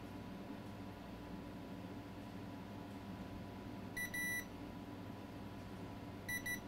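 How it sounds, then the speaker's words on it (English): A multimeter in continuity test mode gives two short high-pitched beeps several seconds apart over a quiet room hum. "meter in continuity mode. Let's test one more time."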